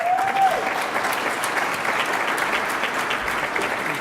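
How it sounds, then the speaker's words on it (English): A large conference audience applauds a speaker, dense steady clapping filling the room at full strength throughout without letting up. "Let's give a round of applause for Tiffany."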